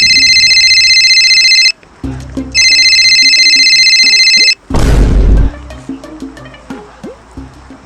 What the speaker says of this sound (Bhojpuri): हाँ देखो फोन आइलो।